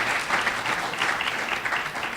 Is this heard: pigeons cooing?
no